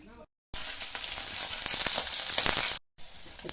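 Bitter gourd frying in hot oil makes a loud, steady sizzle with crackling spatters, rising slightly over about two seconds and then cutting off abruptly.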